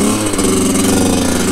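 Kawasaki KX 80, a small, light off-road motocross bike, revving hard close by in a loud, buzzy, raspy two-stroke tone that holds steady before cutting off abruptly at the end.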